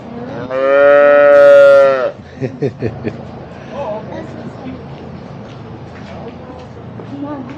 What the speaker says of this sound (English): I think there might be small calves and stuff in here.